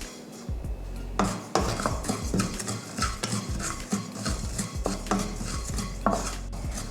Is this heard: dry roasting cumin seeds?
yes